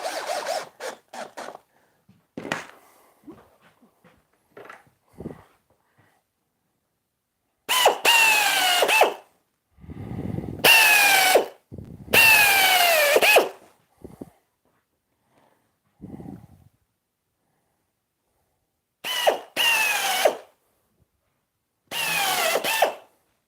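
A power drill countersinks a screw hole in shelving, running in several loud, close bursts of whirring and grinding separated by quiet pauses and small handling clicks.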